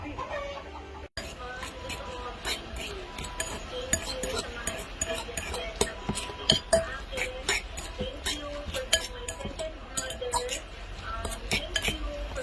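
Utensils mixing lumpia shanghai filling with egg in a bowl: steady rapid clinks and scrapes of metal against the dish throughout, with someone talking over them.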